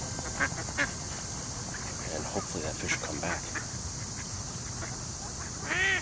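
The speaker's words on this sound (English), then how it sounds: "I'm going to wait a few minutes for these ducks to clear out." Ducks on a park lake quacking at a carp-fishing spot, a few distinct quacks early on and a louder burst near the end, heard under someone talking over steady outdoor background noise.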